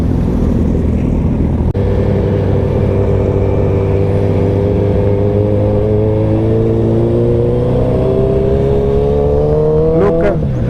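Several Suzuki Hayabusa motorcycles at a Dubai bike night rev and idle together in a loud, steady roar, the engine note climbing slowly and rising sharply near the end.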